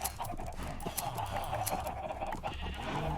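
Sheep in the video game Minecraft bleat over a busy backdrop of other farm animal calls, with repeated short bleats spread across the clip at moderate volume.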